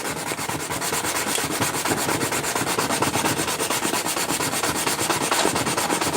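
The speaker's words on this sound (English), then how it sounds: "I thought I had coarser sandpaper, but this is the coarsest I have" Wood is sanded by hand with the coarsest sandpaper on hand, a fast rhythmic scratchy rasping of back-and-forth strokes, close and steady throughout without talk.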